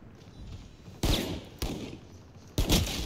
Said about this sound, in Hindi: देख ये गोली ने फायर किया